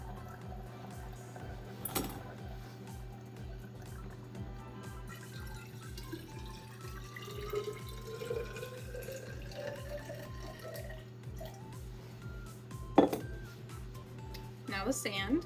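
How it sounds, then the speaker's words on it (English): Coloured water is poured from a measuring container into gravel inside a bottle, a faint, continuous trickle and gurgle in a quiet room, with a few soft knocks and a steady background hum. "Pouring into the gravel first."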